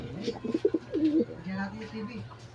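Pet pigeons cooing up close, a few soft throaty burbling coos in short bursts.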